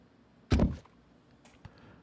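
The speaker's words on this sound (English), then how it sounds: "A huge thud echoed across the courtroom" A single heavy thud in the video game Danganronpa lands loudly in a courtroom with a short echoing decay, followed a second later by a much softer knock.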